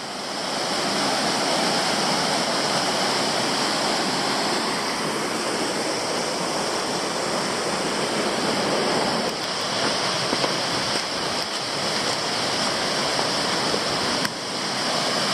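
Wungaree Falls, a small waterfall on West Canungra Creek in Queensland, pours steadily into a pool, a continuous broadband rush of splashing water with no pauses, close to the listener.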